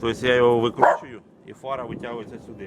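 A dog barks and yips in short bursts close by while someone talks throughout, during a turn-signal replacement on a 1992 Opel Vectra A.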